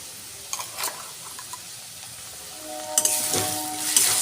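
Ginger, garlic and green chili paste frying with potatoes and mushrooms gives a soft sizzle with scattered utensil taps, then louder stirring and a brighter sizzle near the end.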